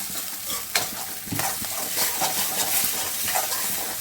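Maggi noodles being stirred and mashed in a pan, with steady scraping and clattering strokes over a soft frying sizzle, close and moderately loud throughout.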